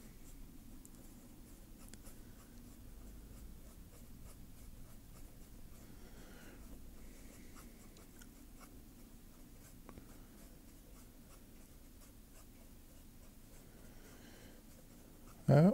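A pen tapping out stippled dots on paper while drawing a Christmas wreath: a faint, steady stream of quick, close ticks running throughout, alone and quiet.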